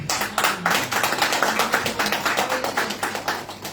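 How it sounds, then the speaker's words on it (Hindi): A congregation at a prayer meeting claps hands in praise, a dense, steady patter of many hands clapping together in rhythm, loud and continuous throughout. "उसके हुजूर हम तालियां बजाएंगे"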